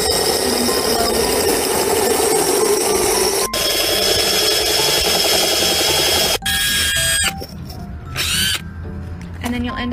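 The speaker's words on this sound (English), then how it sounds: "start at an angle and then start to drill" A power drill bores a hole in a plant pot, whirring steadily, stopping and restarting a few times, with short bursts of grinding near the end; loud and close.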